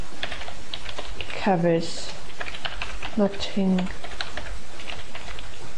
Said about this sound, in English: I will delete all of these out and type instead